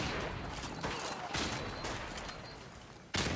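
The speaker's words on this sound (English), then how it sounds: "They're shooting on the side?" Gunfire in Call of Duty 4 Modern Warfare Remastered multiplayer, several sharp shots at irregular intervals, fairly faint, with a louder burst near the end over a noisy game background.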